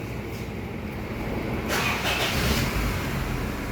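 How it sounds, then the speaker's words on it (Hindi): A car engine starts: low idle-like rumble builds into a fuller, louder roar midway and keeps running steadily to the end, with no talk over it. "गाड़ी स्टार्ट कर"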